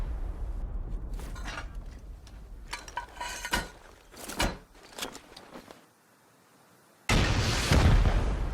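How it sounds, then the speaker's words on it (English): Rockets blast through stone walls of a base in the game Rust, landing as sharp booming impacts at uneven intervals with rumbling debris after each. A quiet gap follows, then a loud sustained burst of rushing noise. "I'm targeting the side of one of the 1st floor loot rooms with rockets. I have to blast my way through 2 stone walls."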